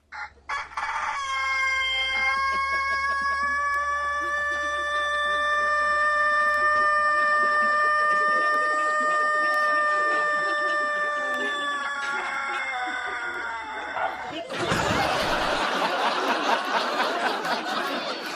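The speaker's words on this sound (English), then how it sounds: "the new record holder of the world's longest crow keeps the title for a tragically short amount of time" A rooster on a farm in Cumbria lets out one very long, loud, sustained crow held for over ten seconds, ending abruptly into noisy rustling, with no talking.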